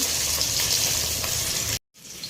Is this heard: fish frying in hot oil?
yes